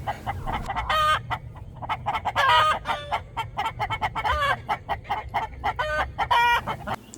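Chickens cluck steadily and repeatedly, several birds close by, with occasional louder squawks over a low constant background hum.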